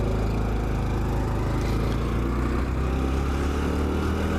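Honda CT125 Trail motorcycle engine while downshifting, a small single-cylinder engine droning loud and close with a steady throbbing rumble, its pitch shifting slightly as revs change, no talk over it.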